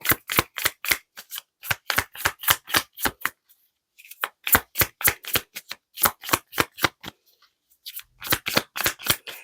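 Flower-meaning oracle cards riffle-shuffled by hand in quick rhythmic bursts of crisp flutters, with two short pauses between rounds; close and clear, no talking.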